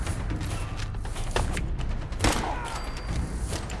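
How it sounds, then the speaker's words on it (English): Gunfire in Fallout 4 on PC comes as several scattered, muffled shots and thuds over a busy game soundscape, with one louder blast near the middle. "Someone else is shooting at me too."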